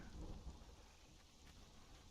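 Steady rain pours down in the Conan Exiles game world, a dense, continuous hiss with low rumbling undertones, moderately quiet and heard on its own without any voices.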